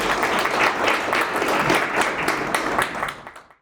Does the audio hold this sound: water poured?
no